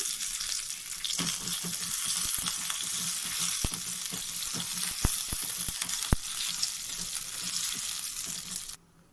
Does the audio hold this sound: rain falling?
no